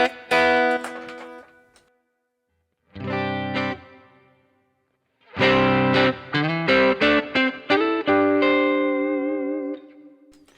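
Electric guitar played through a Keeley Muse Driver overdrive pedal, gritty distorted chords and short phrases ringing out loud and close, separated by brief silences, with no talking.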